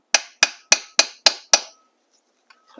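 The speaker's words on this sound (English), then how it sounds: "tap it with a hammer" Hammer tapping a metal socket to seat a fork crown on a Talaria Sting electric motorbike, six sharp evenly spaced metallic strikes in quick succession, close and loud, followed by quiet with faint handling noise.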